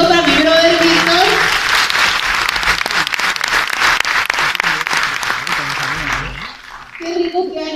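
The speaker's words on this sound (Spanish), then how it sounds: "Un aplauso para mi amigo, para mi brother Víctor." Audience applause at a training presentation, a loud dense burst of clapping that holds for about six seconds and then thins out, with talking heard over the end.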